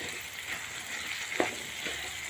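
Turmeric and salt being stirred into rice in a pan, with a soft low sizzle and a few distinct scraping clacks of a spoon.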